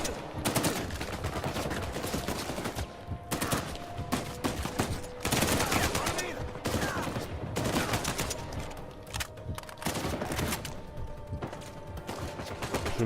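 Sniper and other gunfire in the video game Uncharted 4, a dense, continuous barrage of shots and bursts running throughout with some brief lulls, loud and busy.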